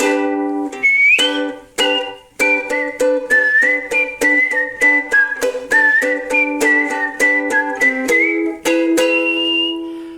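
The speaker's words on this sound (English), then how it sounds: "We gotta learn how to do the whistling." A person whistles a bouncy melody of short, clear notes in quick succession, close and loud, with a few longer held tones.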